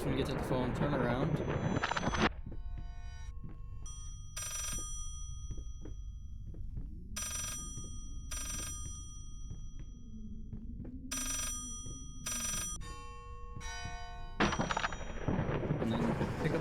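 An old-style telephone bell rings repeatedly in the horror game Layers of Fear, a series of sharp metallic bursts spaced a few seconds apart over a low ambient rumble.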